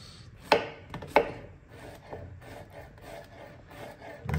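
Bell peppers chopped with a knife in a guesthouse kitchen: two sharp, close knife strikes on a cutting board, then quieter scraping and rubbing against low background noise.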